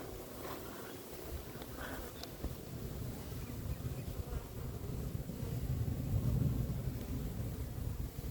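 A honeybee swarm hums as it is hived near a roof in Marolles-en-Brie, a soft, steady buzzing drone that swells slightly toward the end, with a few faint knocks early on.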